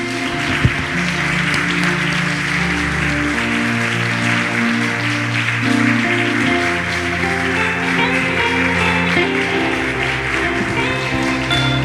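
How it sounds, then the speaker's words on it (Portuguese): A church congregation applauds Jesus with sustained, loud clapping over a held musical backing, continuous throughout. "Se você tem liberdade, aplauda Jesus mais uma vez"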